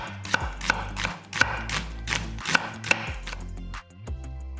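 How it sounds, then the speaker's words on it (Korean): A knife thinly slices a quarter onion on a cutting board, a close series of crisp chops at an irregular rhythm, eight or so cuts, with no talking. "양파 4분의 1개는 얇게 채 썰어서 담고"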